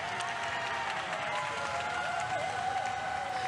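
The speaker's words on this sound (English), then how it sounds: "Got some applause going on." Applause ripples through the audience at a live hairdressing competition, a continuous moderate clatter of clapping heard from a distance with faint crowd murmur.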